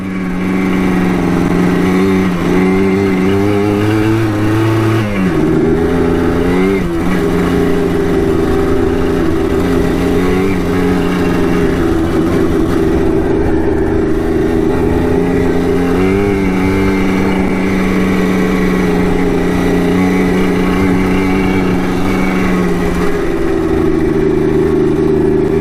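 A Yamaha Blaster ATV that bogs and lacks power, ridden in third gear: loud, steady engine drone with rising and falling revs throughout, no voices.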